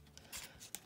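Paper is cut with scissors while wrapping a craft mail package, faint, close snips in a short sequence, two or three soft cuts with no voice.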